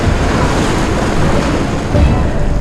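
Ocean waves break and surge around a rider in heavy motocross gear at a beach, a dense rushing roar of surf with rumbling low wash and wind buffeting, loud and continuous throughout.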